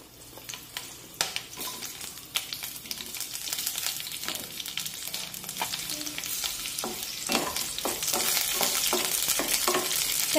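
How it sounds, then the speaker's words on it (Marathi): Green chillies fry in a spoonful of hot oil in a kadai over a medium flame and are stirred with a spatula. A steady sizzle builds louder toward the end, broken by scraping and clinking knocks, with no talking. "तेल गरम झालं की त्यामध्ये मिरच्या परतून घेऊया।"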